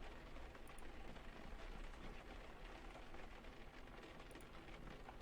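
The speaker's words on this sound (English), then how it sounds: "At least the rain is keeping the crowds away." Steady rain falls in the video game Unavowed, a dense, constant hiss of drops on hard surfaces with a low rumble underneath, continuous and even throughout with no voices.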